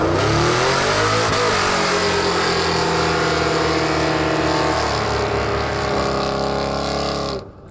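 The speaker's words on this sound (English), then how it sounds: "He's going to do a burnout for distance with a dog and a small block Chevy in the bed of the muscle truck." A muscle truck carrying a dog and a small block Chevy engine in its bed does a distance burnout, its V8 roaring loud and steady at high revs with tire squeal, then cutting off abruptly near the end.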